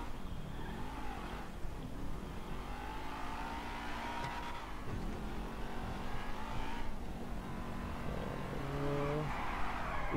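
Car driving in GTA 5: a continuous engine drone with rising and falling revs and a brief tire squeal near the end, loud and steady throughout.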